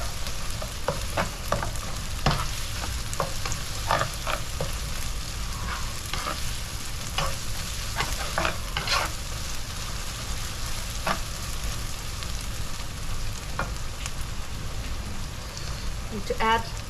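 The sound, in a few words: sauteing chopped ingredients for Szechuan soya chunk pickle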